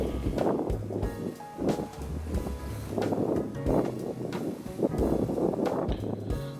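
Strong wind buffets the microphone at Kranji Reservoir on a windy, foamy day, coming in loud rumbling gusts roughly every second or two over a faint background.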